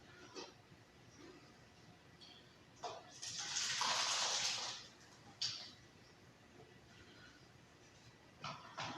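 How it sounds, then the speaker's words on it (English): Head cheese liquid is poured into forms in a faint kitchen setting: a steady liquid gush lasting about two seconds, framed by a few soft clicks and knocks. "Just pour it into the forms."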